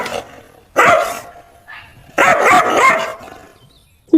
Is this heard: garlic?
no